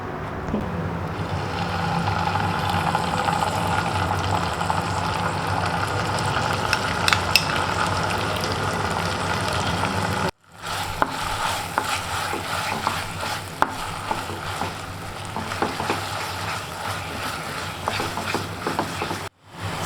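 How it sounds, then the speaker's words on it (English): Recheado masala paste frying and being stirred in a pan for Goan prawns recheado, a steady loud sizzle with scraping stirs that cuts out briefly midway, then resumes with no talking. "I'm just going to add this, cook it a little bit, and then add the onion and the prawns"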